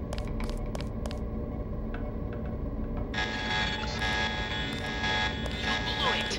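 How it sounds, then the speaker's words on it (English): An alarm buzzer sounds in the video game Deus Ex, a harsh sustained tone that kicks in partway through after some clicks and a voice, staying loud to the end. "The alarm just closed the north door."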